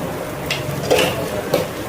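A spoon stirs sugar into spicy Indian kara chutney in a hot pan, making soft scraping strokes and a few light clinks over a faint steady sizzle.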